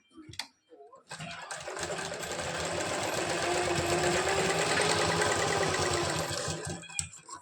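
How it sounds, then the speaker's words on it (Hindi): A sewing machine stitching a 42-inch belt blouse starts after a couple of handling knocks, then runs in a steady fast whirring clatter for several seconds before stopping, close and loud. "शेप बिल्कुल भी बिगड़े ना, उस तरह से हमें इसमें सिलाई लगानी है।"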